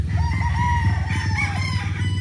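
An Allen Roundhead rooster crows close by in one drawn-out, wavering call over a steady low rumble of background noise.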